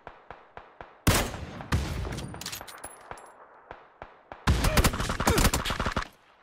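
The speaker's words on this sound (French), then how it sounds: "C'est pas pour moi les tirs." Rapid bursts of gunfire from the video game PUBG, scattered single cracks followed by dense sustained volleys, loud and close, with no talking over them.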